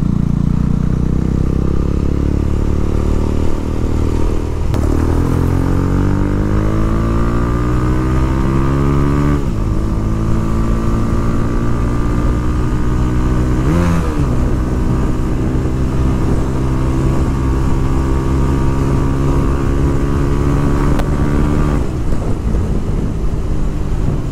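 Bajaj Pulsar 220F motorcycle fitted with an Akrapovic exhaust, revving hard on an open road: loud, close engine with repeated rising pitch sweeps as it accelerates through gears, steady throaty drone between pulls, no talking.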